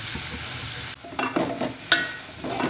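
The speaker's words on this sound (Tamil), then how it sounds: "போட்டு கொஞ்சமாக வதக்கிக்கணும் கொஞ்சம் ஃப்ளேம் குறைச்சி வச்சுக்கோங்க" Double beans masala is sautéed in a pan over a low flame, with a soft continuous sizzle broken by several close spatula scrapes and stirring strokes.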